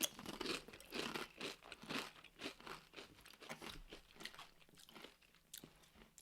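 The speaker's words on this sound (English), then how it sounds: "They're gonna hear us chewing" People crunch and chew crispy chips topped with hot sauce, giving a steady run of close, crackly bites and mouth sounds at a low, quiet level.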